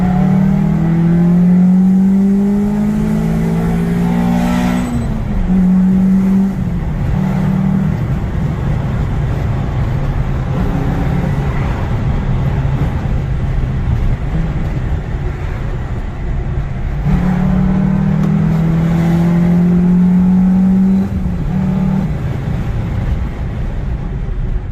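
A Peugeot 206 RC's engine is heard from inside while driving: a loud, steady drone that climbs in pitch under acceleration, drops at gear changes, then rises again, with no voices.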